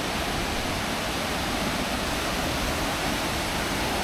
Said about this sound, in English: Ramboda Falls is the 11th highest waterfall in Sri Lanka